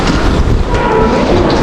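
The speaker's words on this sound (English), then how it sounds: "Wow, the wind," Strong wind buffets a microphone outdoors near a busy international airport in Moscow, a loud continuous rumbling roar that fills the whole moment, close and with no speech.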